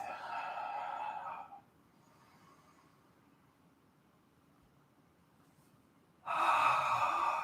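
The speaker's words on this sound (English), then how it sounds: "Watching the belly rise and fall as you breathe" A person breathing deeply during a yoga session: a loud, long breathy exhale, a stretch of quiet, then another strong breath near the end.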